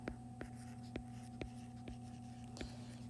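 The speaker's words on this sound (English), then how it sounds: "I can write an equation." Marker or pen writing an equation by hand on a board, short regular taps and strokes at a steady pace, faint and close over a constant electrical hum.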